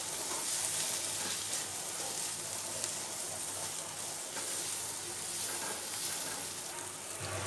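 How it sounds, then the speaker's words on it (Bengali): Spices and red chilli powder frying with onions in a pan for kochur dom, a constant close hiss and sizzle with faint stirring. "মশলাটা শুকনো একটু পেঁয়াজের মধ্যে নেড়ে নেব।"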